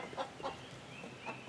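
A New Hampshire hen clucks softly, giving a few short, separate clucks at a moderate distance over a quiet background hiss.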